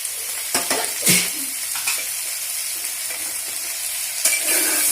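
Vegetables sizzle and fry in a pan with turmeric, chili powder, coriander powder and salt for an aloo-baingan-mooli dish, with a steady hiss and a few close stirring scrapes and clinks.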